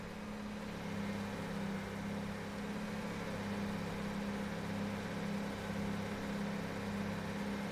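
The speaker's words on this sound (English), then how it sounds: "Yeah, it sounds like he's revving" An AI-driven Class 158 diesel multiple unit in Train Sim World 5 on the Birmingham Cross City line, its engine droning steadily at high power with a constant low hum and little change throughout.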